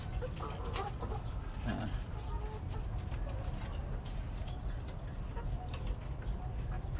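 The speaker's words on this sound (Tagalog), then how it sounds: "Yan yung update ng ating layer chicken." Layer chickens, around 18 weeks old, cluck and call softly in a poultry pen, a steady murmur of flock sounds with scattered brief bird calls over a constant low background hum.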